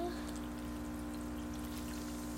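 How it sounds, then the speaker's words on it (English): Water pours in a steady, faint stream into a vinegar and baking soda volcano experiment, continuous throughout with no talk. "We're adding some water."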